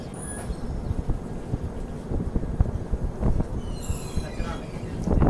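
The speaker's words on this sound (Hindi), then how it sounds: "यहाँ पर सामने से आ रही है डिब्रूगढ़ नई दिल्ली राजधानी एक्सप्रेस" The Dibrugarh–New Delhi Rajdhani Express via Lucknow rumbles past on a parallel track, a continuous close, heavy rattle of wheels over rail joints with wind buffeting and a brief high squeal near the end.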